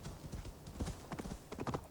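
A horse in Assassin's Creed Valhalla gallops through snow, its hooves a rapid, uneven run of muffled thuds close up, with faint background ambience.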